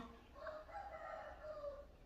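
A chicken clucks and calls faintly in a rural setting, a few drawn-out warbling notes coming and going from some distance.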